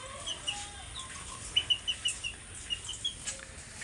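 Three young local (deshi) chicks and hens cluck and peep on a farm, with a run of short, evenly spaced clucks in the middle and a few fainter calls around them, close by and without talk.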